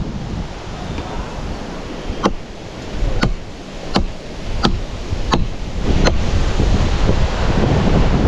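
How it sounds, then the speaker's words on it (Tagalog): Strong seaside wind roars and buffets the microphone in loud, uneven gusts, with several sharp clicks cutting through the rushing noise. "Ang lakas ng hangin."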